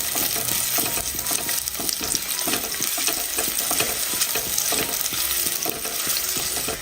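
Chopped shallots fry in coconut oil over a medium flame, a dense, continuous sizzle with frequent stirring scrapes and crackles, close and steady throughout.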